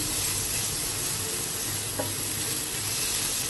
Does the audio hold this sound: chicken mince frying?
yes